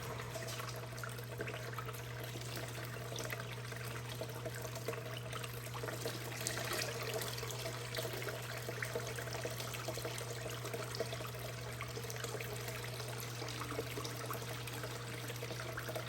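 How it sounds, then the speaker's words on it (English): Water poured out of a gold panning tub after running material through a micro sluice, with foamy water; a steady continuous trickling pour with a constant low hum underneath, no talking. "Get some of this water out of here."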